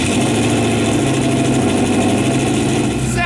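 A rebuilt, formerly destroyed Corvette ZR1 engine runs loud and close right after startup, with a steady, dense, rumbling idle holding for a few seconds.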